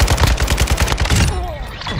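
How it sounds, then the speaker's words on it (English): Rapid automatic gunfire in Call of Duty: Modern Warfare 2, a dense string of loud close shots for over a second, then trailing off into a quieter tail. "I saw your gunshots coming through the stairwell."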